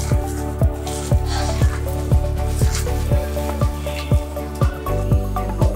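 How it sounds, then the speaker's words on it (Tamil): Banana flower and spinach vada batter, seasoned with curry leaves, is squished and mixed by hand in a steady, close, wet rhythm of soft squelches, roughly two per second, over faint background music. "இதை நல்லா மிக்ஸ் பண்ணிக்கலாம்."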